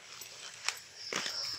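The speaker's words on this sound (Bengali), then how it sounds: "ভাই, কুত্তার আওয়াজ না?" A dog barks somewhere outdoors at night, two short sharp calls heard at a distance against a quiet background.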